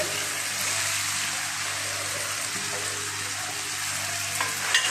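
Tomatoes with chilli powder fry in a pan, giving a steady, close crackling sizzle with light stirring and a couple of small clinks near the end, no voices.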